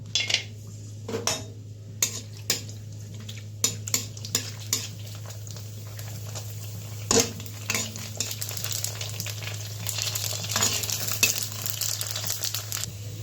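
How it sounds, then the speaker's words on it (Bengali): Fuchka puris frying in a pan of hot oil, making a steady sizzle broken by sharp clinks and scrapes of a utensil against the pan, with a low constant hum beneath. "তেলটাও গরম হয়ে গেছে, তো ফুচকাগুলো আমি ছেড়ে দেবো।"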